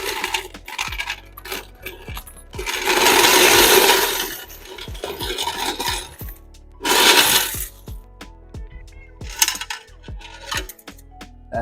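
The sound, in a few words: coins poured out of a vending machine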